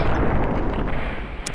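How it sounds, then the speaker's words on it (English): Pistol fired in Fallout New Vegas, a heavy, booming blast with a rumbling tail, followed at the very end by a brief sharp click. "we're just going to pop him in the bottom with a pistol"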